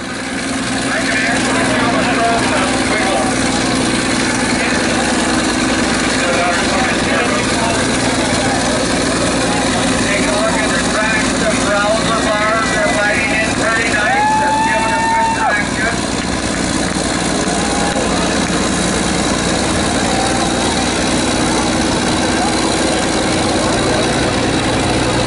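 A heavy bulldozer diesel engine drones loudly and steadily while pulling in a tractor pull, a deep rumbling labor with faint chatter mixed in.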